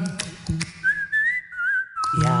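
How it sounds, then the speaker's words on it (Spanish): A single whistled tune, a clear wavering line carried over a couple of seconds, sounds alongside a children's song about a jumping panther, with light backing music underneath. "La pantera saltarina está aprendiendo a silbar."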